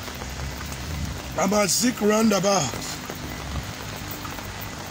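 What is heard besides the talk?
rain falling outdoors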